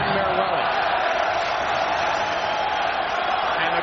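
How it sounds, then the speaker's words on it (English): A hockey arena crowd at an Islanders home playoff game against the Maple Leafs, a loud, sustained roar of voices reacting to a tripping call, holding steady throughout with indistinct talk mixed in. "And the crowd responds."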